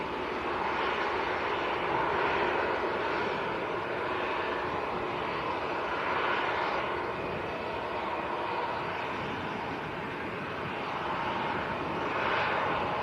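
Boeing 737 airliner taking off at Manchester Airport, a sustained jet roar with slowly swelling and fading whine, moderately loud and steady for the whole stretch without speech.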